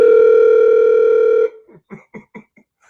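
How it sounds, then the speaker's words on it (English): An outgoing phone call first gives a steady, loud ringback tone that holds for about one and a half seconds, then cuts off into a few short, faint pulses and blips. "Come on, Deacon McCart, pick up, man."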